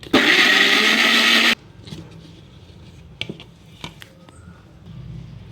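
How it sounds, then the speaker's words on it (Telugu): A loud mixer grinder blending ripe banana and milk whirs for about a second and a half, then cuts off abruptly, leaving faint clinks and handling sounds. "ఇప్పుడు ఇది మొత్తం మిక్సీ వేసేసుకుందాం"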